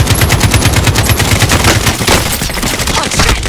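Automatic gunfire in the video game Warzone, loud rapid bursts of shots firing in a fast steady rhythm, continuing with little pause across the whole stretch, with no talking over it.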